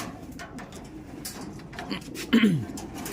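A pet pigeon gives a single near, rounded coo among softer background bird sounds and faint talk.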